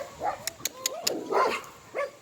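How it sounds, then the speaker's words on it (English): A dog barks and whimpers in short, uneven yips close by, with a few sharp bursts in between. "What you barking at?"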